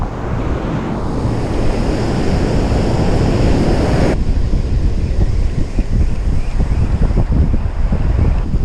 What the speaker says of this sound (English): Gotta be careful with the waves